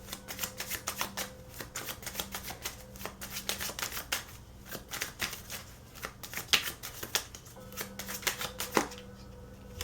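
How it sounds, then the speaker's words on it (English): A deck of tarot cards shuffled by hand, giving a close, steady run of quick riffling flutters and soft slaps that continues with brief pauses, with no voices. "So I'm going to go ahead and shuffle your cards."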